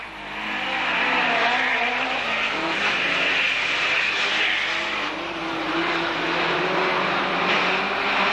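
A racing van leads past on an oval track at a 1991 club van meeting, its engine a loud sustained roar that swells and fades slightly as it passes, with no voices.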